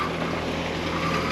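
A sailboat motors under engine power in calm, windless conditions between Ibiza and Mallorca, a steady low engine hum with wind and water noise in the background.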